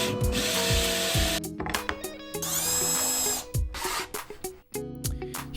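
A cordless power drill drives screws through bed parts into a VW T5 van floor, with repeated whirring bursts that rise and cut off, plus short mechanical rattles between runs, close and loud.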